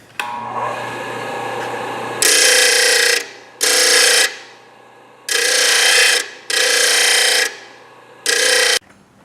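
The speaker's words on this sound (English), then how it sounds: "And then over to the sander." A power sander on metal panels during a 1929 AV8 coupe build, switched on and off in five loud, harsh whirring bursts of a few seconds each over a quieter background hum.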